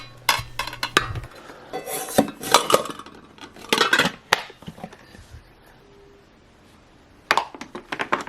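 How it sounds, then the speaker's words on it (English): Metal rice cooker lid part being washed and handled, with irregular clinks, scrapes and rubbing of metal against dish surfaces, bursts of clattering followed by a quiet pause and a final few knocks. "you're actually supposed to wash this top metal part after you make rice every"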